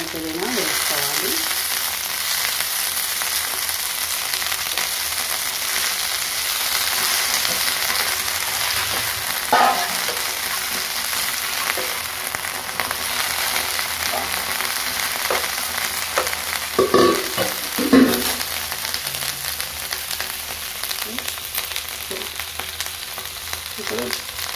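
Chillies, coriander and mint fry in a pan for ridge gourd chutney, a continuous even sizzle with occasional stirring scrapes and clinks rising over it now and then.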